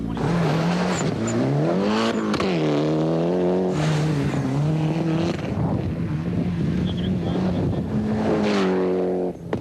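A rally car tears around a superstage course with passengers aboard, its engine loud and close throughout, revving and shifting through rising and falling pitch sweeps as it accelerates and brakes between corners.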